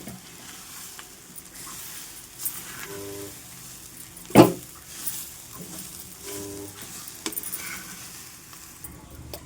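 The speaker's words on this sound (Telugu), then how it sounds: "చూడండి, నేను కొబ్బరి వేసుకున్న తర్వాత కూడా చక్కగా అంత కలిసేలాగా అటు ఇటు తిప్పుకోవాలి." Grated raw coconut being stirred into cauliflower frying in a pan, with a steady soft sizzle, scraping stir strokes and one sharp clatter near the middle, close and fairly quiet.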